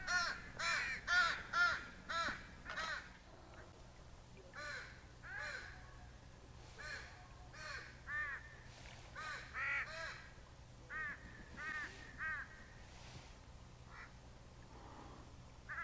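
Crows at remote Nimmo Bay, British Columbia, caw in a series of loud, repeated harsh calls that come in bursts and then grow sparser and fainter, over quiet outdoor background.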